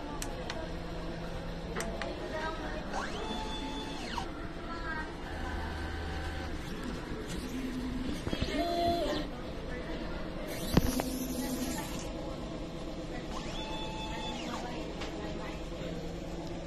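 A printer runs a head clean and nozzle test, with carriage moves and mechanical whirs in separate bursts, small ticks, and one sharp click, heard close in a quiet room with faint talk.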